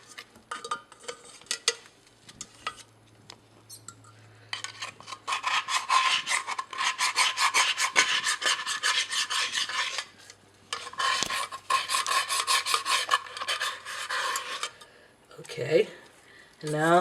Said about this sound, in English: It looks like I can scrape more with the pot scraper.